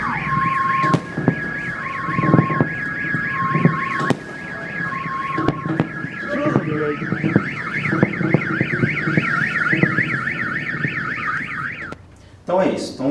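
Several car alarms go off after a meteor explosion, loud electronic tones warbling rapidly up and down with steady beeps and sharp knocks, then cutting off near the end.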